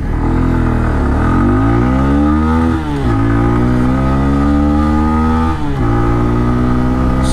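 A Bajaj Pulsar N125 motorcycle accelerating hard through the gears, loud close engine note rising in pitch in each gear with brief dips at two shifts, no talk.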